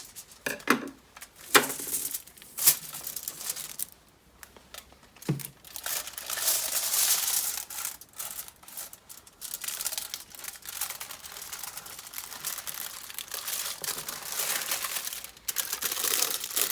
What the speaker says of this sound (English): we're just going to wrap it in some aluminium tin foil.